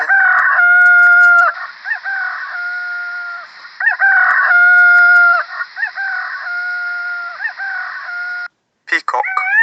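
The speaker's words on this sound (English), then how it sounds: "Rooster." Rooster crowing loudly and close in repeated long, drawn-out calls, with quieter clucking-like sounds between them.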